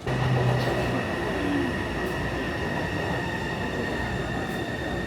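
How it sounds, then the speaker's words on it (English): A loud, steady rumble of a metro train arriving in Taipei rolls close by, with a brief wheel squeal early on and a faint high hum throughout. "And that is the train."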